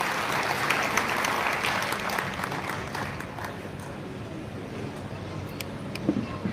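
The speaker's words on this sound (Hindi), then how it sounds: "जोरदार तालियों से आपका स्वागत" An audience at a Samrat Ashok Jayanti club event claps steadily in welcome, a dense wash of applause that fades slightly toward the end, with a few sharper claps standing out.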